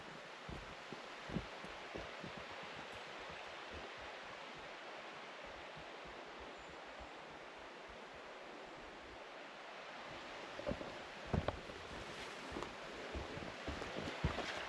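A creek in wooded backcountry flows steadily, a broad continuous rush of water with faint rustling and a few soft knocks toward the end, no voices.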